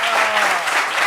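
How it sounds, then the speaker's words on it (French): An audience at a gathering in Abidjan applauds, a brief, loud, dense wash of clapping with no gaps. "Applaudissements pour lui, s'il vous plaît."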